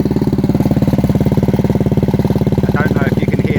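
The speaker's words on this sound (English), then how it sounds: "So here's a quick sound test as well before I've taken the baffle out." A Lexmoto motorcycle idles with its exhaust baffle still fitted, a steady, loud, close engine putter with a rapid even pulse that runs the whole time and a faint rattle on top.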